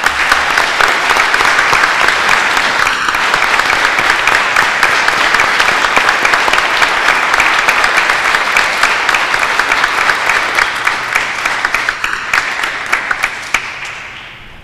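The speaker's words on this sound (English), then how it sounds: "Let's give him a round of applause." A church congregation at a Catholic diaconate ordination breaks into sustained, dense applause lasting nearly fifteen seconds, steady and full before fading out at the end, with no talk over it.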